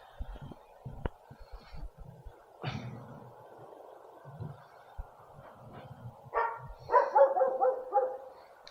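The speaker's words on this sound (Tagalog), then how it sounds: "Nagalit yung aso sa atin mga master." A dog barks at a distance, sparse single barks early and then a quicker run of barks near the end, faint against quiet outdoor background noise.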